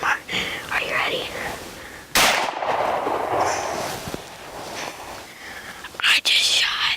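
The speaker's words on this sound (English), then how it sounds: "I just shot my doe." A deer-hunting rifle shot at a doe cracks out as a sudden loud report, with whispered voices before and after and a second sharp burst near the end.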